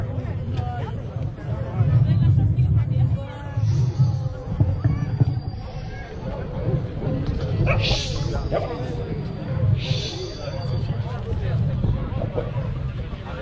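Several dogs bark and yip at a pointing dog demonstration at an outdoor show, with scattered barks rising over steady crowd chatter and nearby talking.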